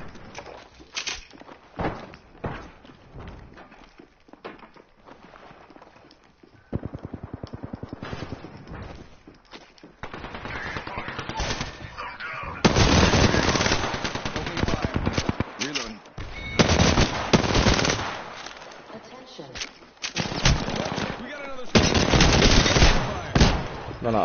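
Automatic gunfire rattles in an Apex Legends match, with bursts that come and go before turning into dense, loud, sustained volleys, while players talk over the shooting.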